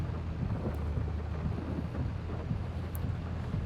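Rain falling with a low thunder rumble in the farming game Farming Simulator 22, a steady wash of dense, muffled patter and deep rolling weather noise continuing throughout, with no talking.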